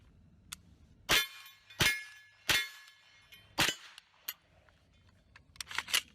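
Several sharp gunshots from an AR-15 rifle fitted with a laser light combo, fired outdoors in bright daylight. Four loud, well-spaced reports are followed by a few quieter clicks and impacts.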